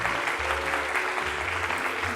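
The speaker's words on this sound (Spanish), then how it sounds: "Vamos a darle un fuerte aplauso a Marisa Jiménez Cacho, por favor." An audience at a children's theatre event claps steadily and evenly throughout, a dense wash of applause with no voices standing out.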